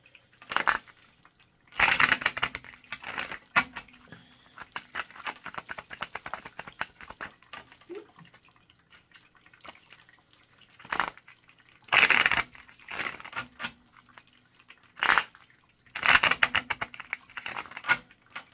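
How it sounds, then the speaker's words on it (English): Oracle cards riffle and snap in repeated short bursts, separated by quieter shuffling and soft handling sounds, close by. "let me get a little shuffle on it."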